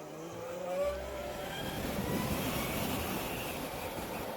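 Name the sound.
Zero SRS electric motorcycle accelerating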